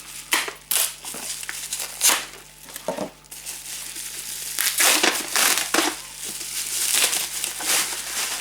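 Packaging being unwrapped and crinkled while unboxing retro MSX computer games, with repeated loud crackling bursts and rustles that come in irregular clusters, close to the microphone and with no talking.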